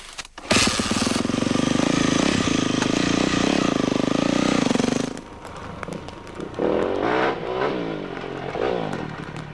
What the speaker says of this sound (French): Je pars maintenant avec la nouvelle 400 YZF 4 temps.